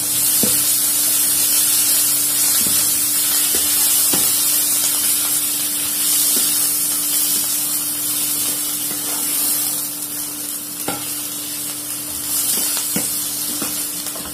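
Chopped leafy greens sizzling in a hot pan with egg: a loud, continuous hissing sizzle up close, with occasional soft taps and stirring clicks and a faint steady hum beneath.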